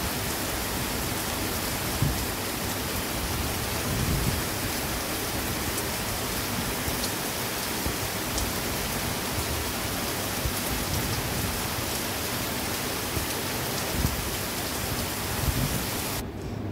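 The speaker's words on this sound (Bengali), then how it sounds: "এই বৃষ্টির সময় জানলার ধারে বসে বসে বৃষ্টি দেখতে আর গান শুনতে যে এত সুন্দর লাগে না" Steady rain falls on a rainy day outside a window, a continuous broadband hiss of drops on surfaces that stays even and fairly loud throughout, with no voices.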